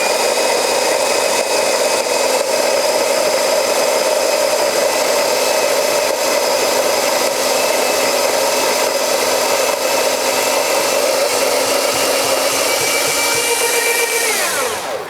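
A coffee grinder grinds espresso beans at its finest setting, a loud steady high-pitched whir that holds without a break for about fourteen seconds before winding down at the end.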